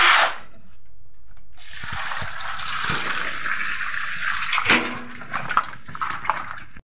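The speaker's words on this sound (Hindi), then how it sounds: "तो आलू को हम धो लेते हैं पानी से।" Potatoes being washed with water at home before cooking, running tap water splashing into a vessel, with sloshing and rubbing sounds, close and steady, ending in a few clinks.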